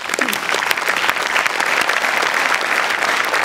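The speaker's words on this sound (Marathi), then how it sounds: "या सामाजिक जाणीवेबद्दल मला खूप टाळ्या वाजवायच्या वाटतात" Sustained applause from a comedy show audience, dense steady clapping at a constant level throughout, with no voices standing out.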